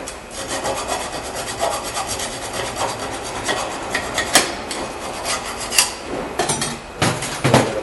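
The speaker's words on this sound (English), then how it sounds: "We're just going to file it down just so we have all that rust out of there." A hand file rasps rust off a rear brake bracket on a 2008 Nissan Altima, close gritty strokes punctuated by a few sharp metallic knocks, no one talking.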